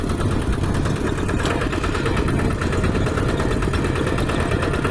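Tractor engine running steadily while riding through a field, a loud continuous close rumble with an even mechanical vibration and no talking over it.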